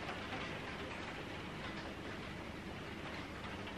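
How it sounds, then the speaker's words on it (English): Heavy rain hammering down outside, heard faintly indoors as a steady, broadband hiss with no talking over it. "The rain that is hammering down right now, I'm actually not mad about."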